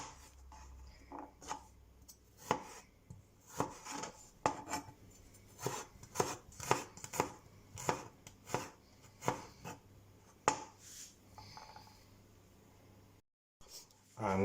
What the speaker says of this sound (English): So let's start off by chopping the garlic up.